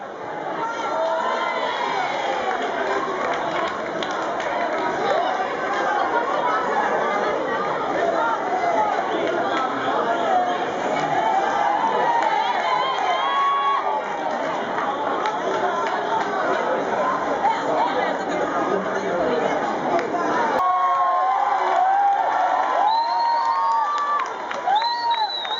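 Festival crowd on Minorca roaring and shouting hollas to make horses rear, a dense continuous wall of cheering, whoops and chatter that stays loud throughout, with brief shrill yells standing out near the end.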